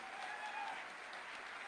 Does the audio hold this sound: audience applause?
yes